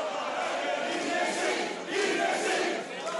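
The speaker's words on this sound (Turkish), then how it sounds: "sanıklar ve aileleri duruşma salonundan gençlik marşını söyleyerek ayrıldı" Defendants and their families singing the youth anthem together as they leave a courtroom, a dense, continuous crowd of voices heard from a moderate distance.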